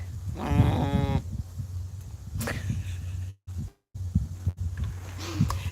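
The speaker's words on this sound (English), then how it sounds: "And so these are how the lambs are doing" Lambs on a farm bleat close by, with one loud wavering bleat early and fainter calls later, amid rustling and handling noise and a couple of short dropouts.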